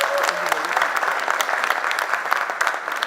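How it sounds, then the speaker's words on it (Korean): An audience at the founding general meeting of a Korean blockchain business association applauds steadily after a unanimous approval, a dense wash of many hands under faint murmuring. "박수 한번 보내주시죠."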